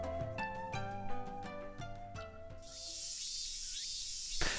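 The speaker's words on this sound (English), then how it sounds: "The three of us walked to the park amid the sound of cicadas." In a visual novel game, a piano phrase fades out and a shrill, continuous buzzing drone of cicadas sets in, holding steady for about two seconds before cutting off abruptly.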